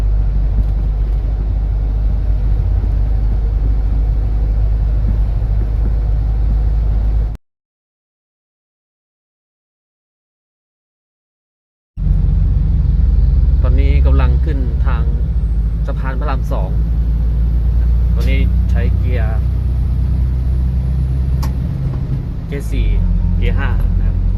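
A heavy truck's diesel engine cruises in fifth gear at around 1500 rpm, about 70 km/h, while carrying a four-ton load. It gives a steady, loud low rumble with a gap of silence midway, and someone talks over it throughout.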